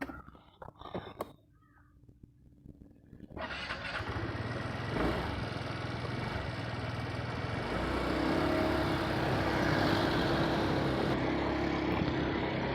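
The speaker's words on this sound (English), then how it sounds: "Let's start the engine." A few clicks and thumps, then an Aprilia SR160 scooter engine starts and settles into a steady idle with a rising buzzy rumble.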